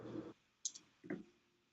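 A corgi's rump presses keys on a computer keyboard, giving a soft low thump, then a short sharp click and a second muffled press-and-click. The sounds are close and quiet, and no one talks.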